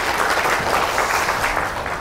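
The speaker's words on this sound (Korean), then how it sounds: "다시 한번 오늘 오신 최희석 회장님께 감사의 박수 부탁드립니다." Audience applause in a hall at a Gwangju association training event, a dense steady wash of many hands clapping close by, continuing evenly for about two seconds with no voices.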